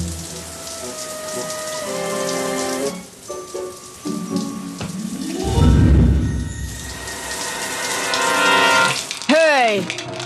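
A household shower running, steady hissing spray under layered music and tones from a television drama, swelling louder in the middle.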